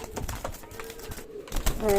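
Low, soft cooing of a pigeon squab close by, with a few short murmured notes over faint background noise.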